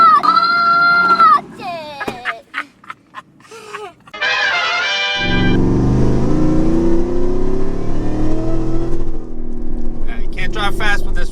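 Ford F150 pickup truck engine revving and droning steadily as it drives, loud and close, after a noisy start with voices and a brief high cry-like sound; people talk briefly over it.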